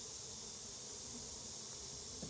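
Honey bees buzzing around an open hive during an inspection, a faint, steady, continuous drone with no talk over it.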